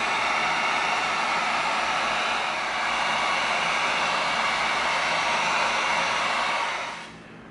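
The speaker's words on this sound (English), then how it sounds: "Now, as we always do, we heat seal to tighten up our foam." A heat gun blows a steady, loud airy hiss close by while heat sealing EVA foam for a crossbow prop, running unbroken before cutting off at the end.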